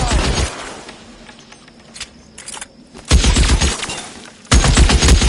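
Loud, close gunfire in LA Noire comes as three bursts of rapid shots, and a quieter stretch between them holds a few scattered single shots.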